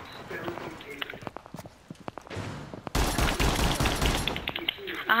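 Gunfire in Rainbow Six Siege while defending, scattered sharp shots and footsteps at first, then a sustained loud burst of rapid fire filling the second half, with players talking over it.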